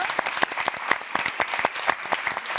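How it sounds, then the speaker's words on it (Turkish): Studio audience applause welcoming a guest onto a Turkish television talk show set, a dense burst of sharp, close claps running steadily throughout with no talk over it. "Yeşim Akıncı alkışlarla davet ediyoruz buraya."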